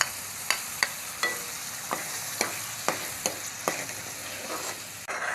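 Ginger, garlic and green chilli fry in a pan for dhaba-style mash dal as tomatoes go in, a steady close sizzle broken by about ten sharp spoon scrapes and taps spaced through the stretch, with no talking.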